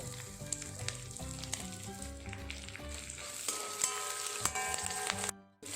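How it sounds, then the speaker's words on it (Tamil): Masala spices and green chilies sauteing in hot ghee in a pan, a steady loud sizzle and crackle throughout with occasional stirring scrapes, briefly dropping away near the end. "நல்லா வாசனை வர மாதிரி வதக்கிக்கணும்."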